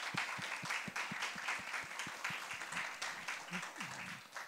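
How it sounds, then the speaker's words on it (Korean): Church congregation at a high school worship service applauding together, a faint but steady wash of many hands clapping for the whole stretch. "우리의 중심을 담아서 하나님께 박수로 또 영광을 돌립시다."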